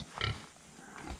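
Pigs on a summer farm give a few faint, low grunts in quick succession, heard at some distance over a quiet outdoor background.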